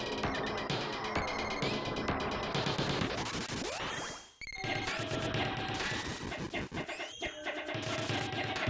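Gem Missile spell from the video game Secret of Mana: a dense, busy burst of crashing, clattering magical impacts with a glittering high shimmer, a brief dropout midway, then another volley of sharp hits continuing to the end.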